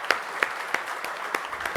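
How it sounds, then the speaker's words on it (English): Brief applause from a conference audience greeting a panel of speakers at an oil spill event in India, a short burst of scattered claps, moderately loud, with no voices over it. "give a big round of applause to all of them"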